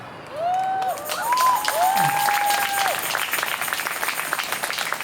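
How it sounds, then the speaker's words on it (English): A protest crowd outdoors bursts into clapping and cheering that swells after a quiet start and continues steadily, with whooping voices rising above the applause. "you're clapping right now"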